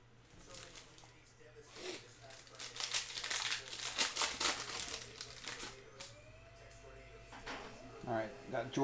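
Foil hobby pack of 2021 Chronicles baseball cards being torn open and cards shuffled, a busy run of crinkling, ripping and rustling close up, with a low steady hum underneath.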